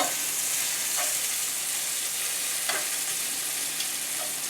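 Thinly sliced apples fry and brown in a pan, giving a steady close sizzle with a few soft clicks and pops from stirring, and no voices.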